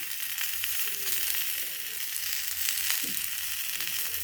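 Onions and curry leaves sautéing in a pan for a Tamil thuvaiyal, a steady broadband sizzle with soft stirring scrapes, close and continuous with no talking.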